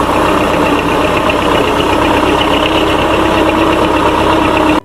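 A loud tractor engine runs steadily at idle, a continuous low chugging drone that holds without change, then cuts off abruptly.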